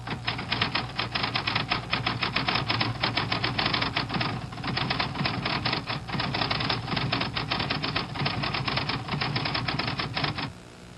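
Smith Corona cartridge ribbon typewriter typing steadily with the correcting cartridge fitted, a dense, rapid run of keystrikes and mechanical clatter lasting about ten seconds, close and loud with no talking.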